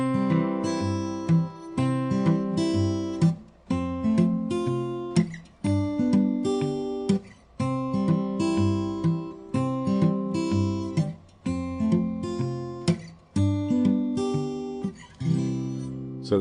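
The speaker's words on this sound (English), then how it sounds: "the next step is spelling out kind of arpeggios with your fingers while" Fingerpicked acoustic guitar plays repeating arpeggio patterns over a steady thumbed bass line, clear and close, with brief pauses between phrases.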